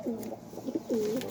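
Pigeons coo softly nearby, a few low rolling coos in quick succession at modest volume over faint background noise.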